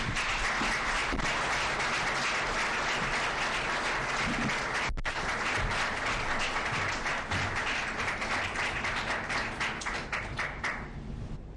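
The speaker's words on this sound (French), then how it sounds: "Sous vos applaudissements, mesdames, messieurs." Audience applause at a formal round-table meeting on reparations for survivors of sexual violence, dense steady clapping that fills the whole stretch, fairly close and even, thinning slightly toward the end.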